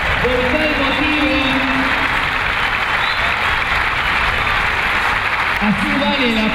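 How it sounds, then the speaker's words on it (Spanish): Dense, steady applause from a large crowd fills the whole stretch, loud and continuous, while a voice speaks over it at the start and near the end. "así vale el aplauso"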